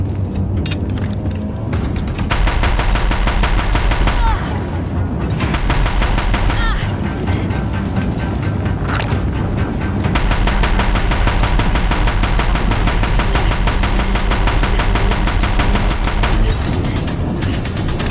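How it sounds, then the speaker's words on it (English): Deathbringer machine guns in Horizon Zero Dawn fire loud, sustained rapid bursts with brief pauses in between, close and dense with battle noise. "If the Deathbringers keep firing, this bridge will go."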